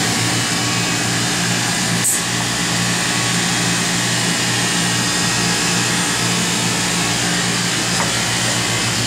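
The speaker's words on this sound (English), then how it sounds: "Pumping back down to base." Oxford Plasmalab 100 ICP system pumping its chamber back down to base pressure, a steady loud mechanical hum and drone of pumps running without change, with one faint click partway through.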